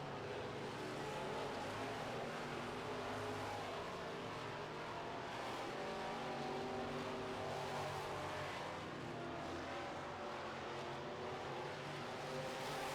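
Midwest Modified race cars lapping a dirt oval during a heat race, a steady broad engine roar that stays distant and fairly faint throughout with no clear pass-bys.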